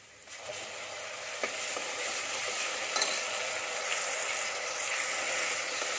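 Mint chutney paste sautés in a pan for pulao, giving a steady soft sizzle with faint scraping stirs and a couple of small clicks, continuous and close with no talking.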